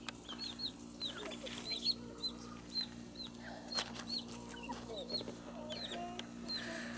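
A rooster and chickens cluck and call in short bursts around a homestead farmyard, with a steady low hum underneath and a few sharper calls standing out.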